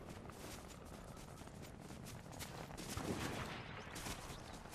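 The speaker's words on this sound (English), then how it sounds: "Oh, they're shooting at me." Gunfire in a team video game shootout, a faint, steady patter of distant rapid shots with no voices, rising slightly toward the middle.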